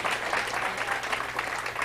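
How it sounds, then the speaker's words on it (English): Steady, dense applause from the crowd at a WordCamp Las Vegas conference session fills the whole stretch, a continuous wash of many hands clapping with no clear breaks. "Let's give him a round of applause."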